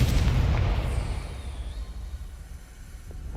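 A Confringo fire spell explodes in the Hogwarts Legacy video game, a loud booming blast that opens with a heavy low rumble and slowly decays into a fading roaring tail.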